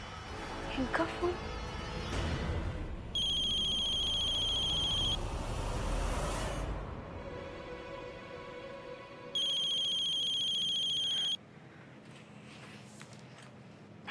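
A telephone ringtone sounds in two loud electronic bursts, each lasting about two seconds, separated by a pause. Indoor background noise and some brief talk surround the rings.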